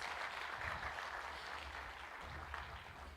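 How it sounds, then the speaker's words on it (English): Soft, distant applause rolls through the hall at a scholarship fund anniversary celebration, a continuous wash of many hands clapping at low volume for a few seconds. "Another round of applause for Marumo,"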